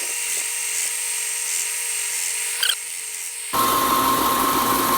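A power sanding tool works down material on a WWII belt display project, a steady high-pitched whine with a brief scraping burst, then it bites harder into a louder, rougher grinding drone.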